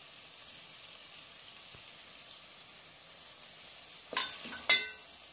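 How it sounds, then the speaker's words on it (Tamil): Onions frying in a pan for a cauliflower and pea curry as salt goes in, a faint steady sizzle underneath, then a brief scrape of stirring and a sharp utensil knock near the end. "உப்பு போடனா போட்டு வதக்கிக்கோங்க."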